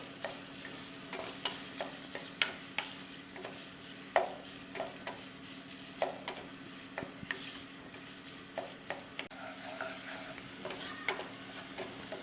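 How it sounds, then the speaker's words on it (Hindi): Onions fry lightly in a pan with a steady soft sizzle, while a spoon stirs and scrapes against it at irregular intervals, quiet and close with no talking. "पहले हम प्याज को हल्का सा फ्राई करेंगे।"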